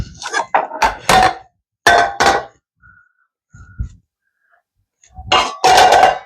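Clattering knocks and clinks as a homemade Mardi Gras king cake is turned out of its baking pan onto a plate, several close, sharp bursts separated by quiet pauses.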